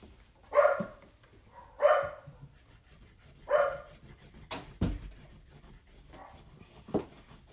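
A small dachshund barks sharply three times at spaced intervals, fairly close, with a couple of dull knocks and quieter yips between.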